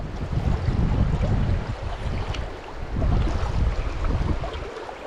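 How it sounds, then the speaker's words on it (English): Fast water rushing through a limestone trout stream, a steady broadband wash that swells and eases slightly, heard up close with some wind buffeting and no speech. "And a nice fast water over there"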